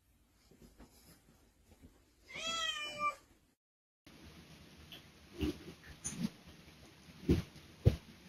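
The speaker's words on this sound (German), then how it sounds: "Katzen." A cat meows in a quick series of rising, wavering calls, loud and close, inside an ordinary Turkish house, followed after a pause by scattered thumps and faint rustling.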